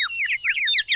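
A little bird from a children's TV show chirps in quick, bright, high tweets, a lively run of close trills with no talking.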